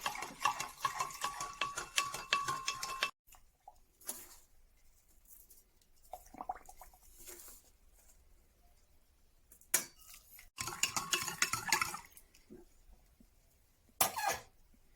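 A spoon clinking and scraping as it stirs sloe gin with sugar in a glass jar, in several bursts separated by near-silent pauses, close and fairly loud.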